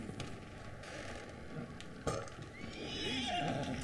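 A horse in Red Dead Redemption 2 gives a close, clear whinny, with a short thump and soft hoof shuffling around it and no one talking.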